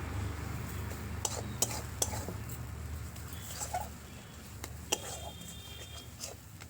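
Spice paste is stirred and fried with a little water in a pot over a wood-fired stove. A utensil scrapes and clinks against the metal at irregular moments, with faint voices murmuring in the background.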